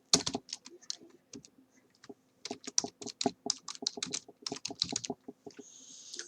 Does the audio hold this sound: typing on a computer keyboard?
yes